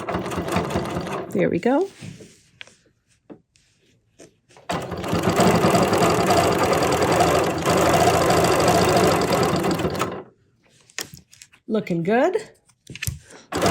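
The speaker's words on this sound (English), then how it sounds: "We're going to stitch right through this little line right there." A sewing machine stitches through quilted string blocks in one long steady run of several seconds, with a person talking before and after the stitching.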